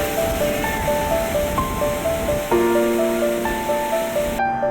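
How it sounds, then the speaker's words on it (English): A steady, roaring wash of rushing water at Niagara Falls fills the whole stretch, with faint sustained tones ringing above it until it cuts off at the end. "force of the water sound is much louder here than anywhere else in the Niagara Falls"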